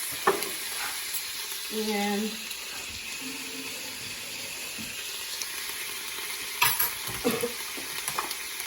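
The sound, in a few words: stirring thyme into vegan butter sauce in a pan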